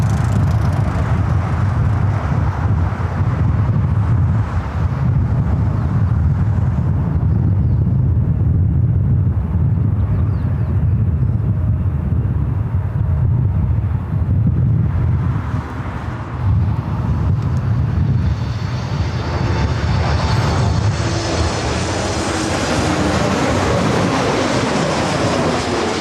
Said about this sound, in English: Canada 737 MAX 8